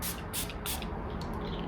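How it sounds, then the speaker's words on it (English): A makeup setting spray bottle is pumped onto a face in quick bursts, several short hissy spritzes close to the mic, about five in under two seconds. "Then you can take that same setting spray that you use to activate the eyeshadow."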